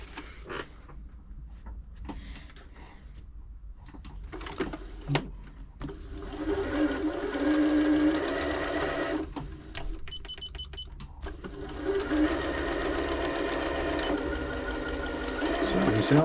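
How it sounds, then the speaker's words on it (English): A Janome Jem Platinum 720 sewing machine runs a straight stitch during servicing, its steady motor whir and rapid needle clatter building after a few quiet clicks and continuing loud and close for most of the stretch, with brief pauses. "Do a straight stitch first."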